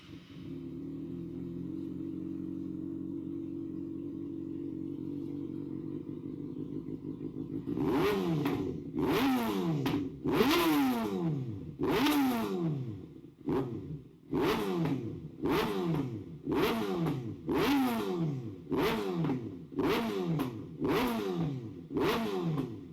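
A Kawasaki ZX6R motorcycle engine with aftermarket headers idles steadily, then is revved repeatedly in sharp bursts, each rev rising and falling, loud and close with short gaps between.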